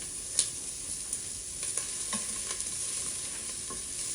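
Onions sauté in hot olive oil in an Instant Pot with a soft, steady sizzle and a few faint stirring taps, heard alone at low level.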